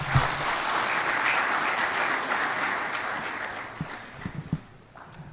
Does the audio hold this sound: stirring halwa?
no